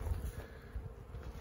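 Honey bees buzz at a hive emerging from winter, headed by a three-year-old queen: a dense, close, continuous low hum with no voices over it.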